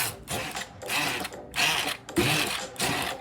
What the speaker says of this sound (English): now we're gonna puree it